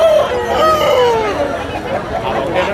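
A rooster crows loudly nearby, a drawn-out call with faint background chatter, at a poultry market in Anakapalli district.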